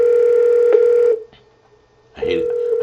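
A telephone call being placed: a steady electronic phone tone that cuts off, falls silent for about a second, then returns with a short burst of noise before the tone continues.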